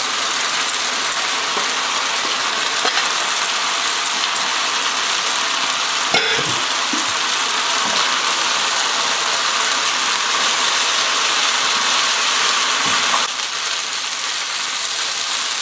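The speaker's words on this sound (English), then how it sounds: "And then finally we want to add the fried beef." Fried beef goes into a hot wok for Chinese takeaway-style crispy chilli beef with noodles, giving a loud, continuous sizzle with occasional scraping knocks of the utensil while stir-frying.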